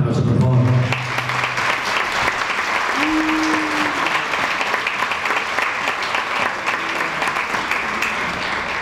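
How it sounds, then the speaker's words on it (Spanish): A gala audience at a charity cancer-association event in Baza breaks into sustained, dense applause that fills the room at steady loudness, with a brief voice or tone briefly audible near the start. "Un fuerte aplauso, por favor."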